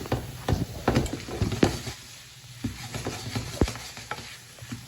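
Ackee and saltfish seasonings, including creole seasoning, being sautéed in a pan, with a soft continuous sizzle broken by repeated scraping and stirring knocks of a utensil, close and moderately loud with no talking.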